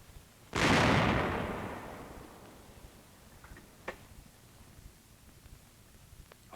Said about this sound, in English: Artillery shells Fort Central on the outer harbor wall as Nazi elements keep up last-ditch resistance.